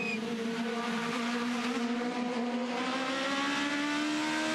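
Aussie Racing Cars race at Bathurst, loud engines screaming close by with rising pitch as they accelerate in a tight pack, continuous and without voices.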